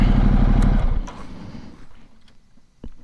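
A Ducati Multistrada Enduro motorcycle rumbles loudly up close as it pulls in, its engine note dropping away after about a second to a quieter idle with light clatter and wind.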